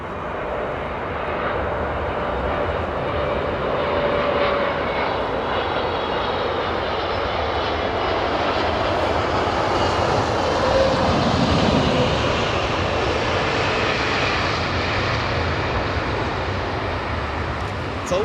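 A Korean Air Boeing 777 jet departs Heathrow with a loud, sustained engine roar that holds steady throughout, while people chat faintly beneath it.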